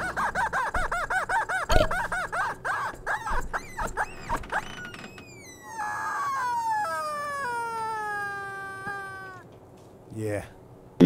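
A person's voice imitates a chicken with a run of squawking, clucking calls, then drawn-out crowing cries, loud and close, ending with a brief burst.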